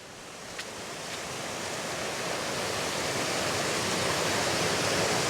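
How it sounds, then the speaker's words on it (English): Raging torrent of water in a glen, a dense, continuous roar of rushing water that swells slightly louder over a few seconds with no voices. "You can hear that raging torrent down to the right."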